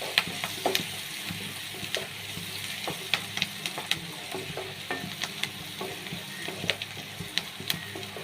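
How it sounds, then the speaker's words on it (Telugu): Soaked chana dal with turmeric fries in a pan while being stirred, a low steady sizzle broken by frequent sharp scrapes and clinks of the spoon against the pan. "ఎర్రగా వేయించుకోవాలండి"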